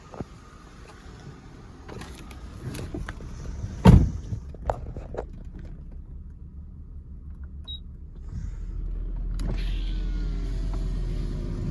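Power seat motor in a 2002 Buick Park Avenue whirs in short electric bursts as the driver's seat moves up, down, forward, back and tilts, with a few clicks and a low car hum near the end.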